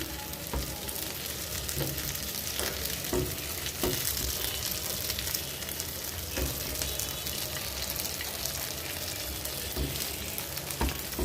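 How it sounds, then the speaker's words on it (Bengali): Fish frying in a wok, a continuous crackling sizzle of hot oil with a few sharper pops and stirring noises, steady and close throughout with no speech. "জানি না ভাজা কতটুকু হয়েছে"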